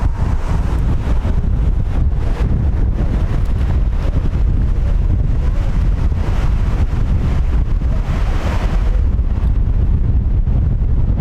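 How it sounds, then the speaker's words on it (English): Strong wind buffeting the microphone at an outdoor youth soccer match, a loud continuous low rumbling roar with gusty fluctuations throughout, masking any other sound. "Wind picking up."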